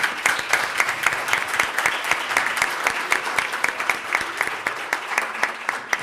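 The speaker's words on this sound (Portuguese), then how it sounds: "aplausos para a assinatura" Steady applause from a crowd at a public hearing, dense overlapping claps sustained at an even level throughout.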